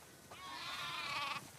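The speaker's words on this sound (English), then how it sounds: "Wow, that's a lot of sheep." A single sheep bleats in The Last of Us Part II: one sustained, wavering bleat of about a second, moderately faint and clear, with no talk over it.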